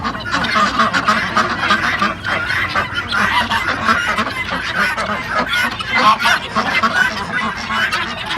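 A flock of farm ducks honks and quacks continuously, many birds calling over one another nearby, with no talking.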